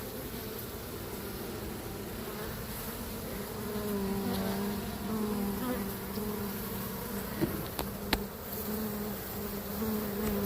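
Bees hum and buzz steadily around a tote swarm trap, many wings droning at once, the pitch wavering as individual insects pass close, with a couple of sharp clicks.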